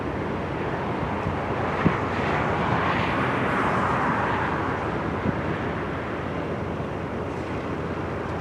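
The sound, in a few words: F-35 military jet aircraft flying near naval air base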